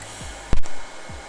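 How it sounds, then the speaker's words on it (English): TIG welding on stainless steel plate, a run laid down the middle: a steady, close broadband hiss with one brief sharper crackle partway through. "let's run weld right down the middle here."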